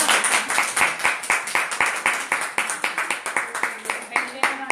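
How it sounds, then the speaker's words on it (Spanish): A small class clapping at the end of a psychoanalysis lecture, a rhythmic burst of hand claps in a room, fairly close and even, with voices talking and calling out over the clapping. "Un aplauso, venga."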